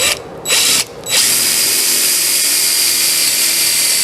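A clamp is cranked down on an oak stool leg assembly with a loud, close, rasping mechanical whir that stutters twice at first, then runs on steadily.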